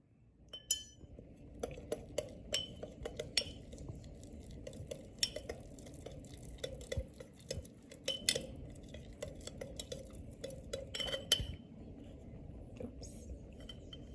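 Sourdough starter is mixed in a container, with repeated clinks and scrapes of a utensil against the sides and uneven sticky stirring taps over a quiet room.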